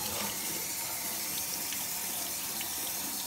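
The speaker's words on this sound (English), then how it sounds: "Run some water over them." Kitchen tap water running steadily over mushrooms in a spaghetti strainer, a constant close splashing hiss with no pauses and no voices.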